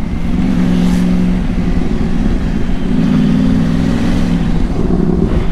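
A motorcycle engine runs steadily and loudly at close range while riding in a Christmas convoy through a neighborhood, with a continuous droning hum and slight rev changes.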